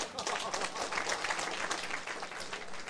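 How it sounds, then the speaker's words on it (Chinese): An audience at a lecture session claps together in a steady, full round of applause that holds at an even level for a few seconds. "大家拍手一下。"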